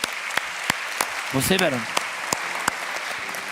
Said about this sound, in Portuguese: Vamos dar um aplauso para Jesus por eles?